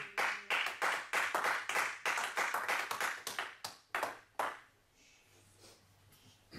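A church congregation claps in rhythmic unison to acclaim God, loud sharp handclaps in a steady beat that stop abruptly, leaving a quieter room tone.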